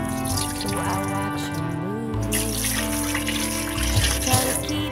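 Tap water runs steadily over pork ribs being washed in a sink, a continuous splashing stream with shifting drips and trickles, close and fairly loud.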